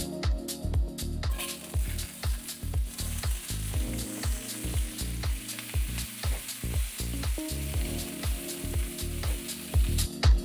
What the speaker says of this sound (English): So while our veggies are cooking in the skillet